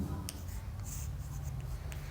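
Pen or pencil writing a math solution on paper: faint, continuous scratchy strokes up close for a couple of seconds, with a low background hum and no talk.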